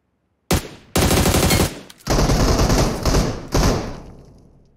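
Loud, close automatic gunfire in PUBG Mobile, several heavy bursts separated by short gaps, with no talking over it.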